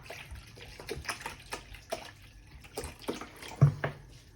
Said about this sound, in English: So all we do is we just pour it into a bowl.